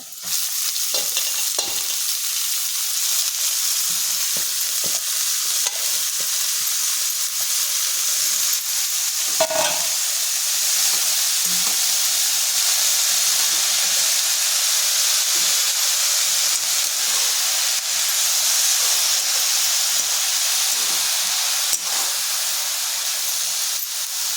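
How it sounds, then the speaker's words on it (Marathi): Spinach sautéing in hot oil with tempering spices, giving a loud, steady sizzle and hiss that runs throughout, broken by occasional soft knocks of stirring. "त्याच्यात पालक आज परतून घ्यायचा."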